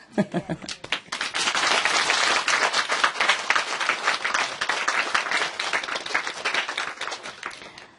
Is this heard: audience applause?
yes